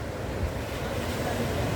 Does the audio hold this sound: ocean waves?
yes